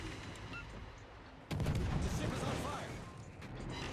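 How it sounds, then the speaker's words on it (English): Video game enemy gunfire erupts suddenly after a quiet stretch, a loud sustained barrage of shots and booms close by, with a voice talking over it. "Now he's shooting at me."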